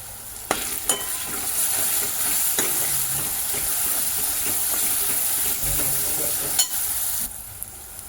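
Spices sizzle in a hot pan for a dill and moong dal dish, a bright continuous hiss with several sharp clinks and scrapes from stirring, close and fairly loud, with no talking.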